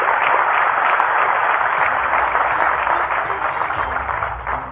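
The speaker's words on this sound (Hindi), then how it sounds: "आप भी तालियां बजा के उसका अभिनंदन कीजिए।" An audience at an official government meeting in Madhya Pradesh claps in dense, sustained applause that stays loud and even, tapering slightly toward the end.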